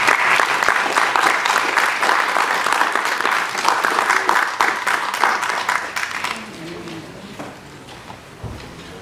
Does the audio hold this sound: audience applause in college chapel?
yes